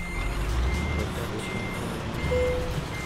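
A truck's reversing alarm beeps steadily over a low, rumbling engine idle, with a brief hiss partway through, from the video game Euro Truck Simulator 2.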